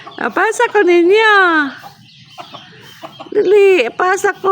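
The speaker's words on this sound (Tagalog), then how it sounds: "Ang mga manok o pato naghulat." Chickens and ducks waiting for food near a stairway, with clucking and bird calls mixed among close voices of people talking.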